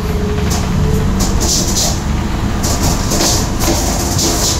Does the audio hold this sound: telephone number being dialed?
no